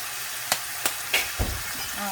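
Chicken and ginger stir-fried in a pan sizzle in a low wash, broken by four or five sharp scrapes and knocks of a spatula at irregular intervals, close by, with no speech.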